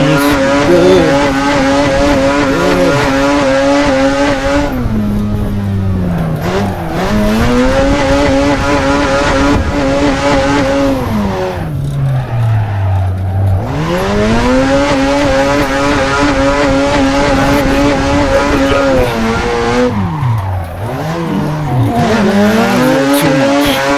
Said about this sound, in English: I'm in normal Assetto Corsa on the OEM drift map. I'm in an FC RX-7.